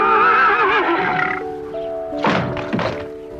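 A horse neighs in a long, quavering whinny, followed by a pause and two loud thudding knocks.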